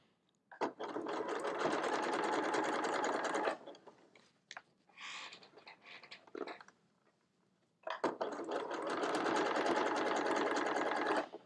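Sewing machine running a zigzag stitch over coiled rope to form a drink coaster, in two long steady bursts of rapid mechanical chatter with a quieter stretch of handling noise between them.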